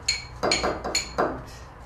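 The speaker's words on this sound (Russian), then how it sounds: "А я буду отделять желтки от белков." Eggs being separated into yolks and whites in a bowl, with sharp clinks of shell and utensil against the bowl, several close taps in an uneven rhythm with no speech.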